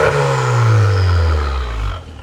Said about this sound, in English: Give me some revs real quick.